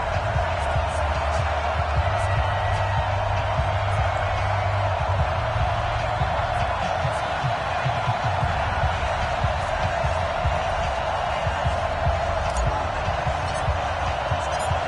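A stadium crowd in an EA Sports NFL video game, Oakland Raiders against Baltimore Ravens, gives a dense, steady roar that stays loud and unbroken throughout with no distinct cheers standing out.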